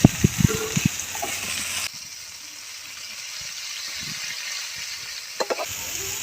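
Ridge gourd frying in a pan of hot oil with a little turmeric, giving a steady soft sizzle throughout, broken by a few sharp clatters of stirring near the start and again at the end.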